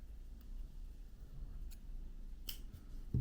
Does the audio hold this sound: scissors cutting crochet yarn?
yes